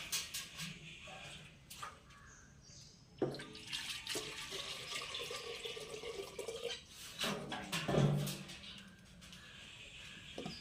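Water runs and splashes into a cooking pot in uneven bursts, with a trickling flow, drips and a louder gush near the end, close and moderately quiet, with faint voice in the background.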